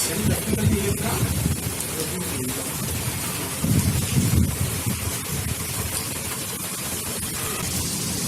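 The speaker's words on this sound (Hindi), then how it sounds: "आज आ रही है हमारे यहाँ बहुत तेज बारिश और आंधी भी है साथ में, हवा बहुत तेज है।" Heavy rain pours steadily with strong wind around a village house in India, a dense, continuous hiss with loud low gusts swelling near the start and again midway, close and enveloping throughout.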